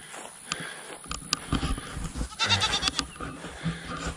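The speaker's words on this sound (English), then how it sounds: "we got these goats out here on our little animal update. I hear you." Goats on a small farm bleating in an outdoor pen, several overlapping bleats at close range with scattered clattering and rustling around them.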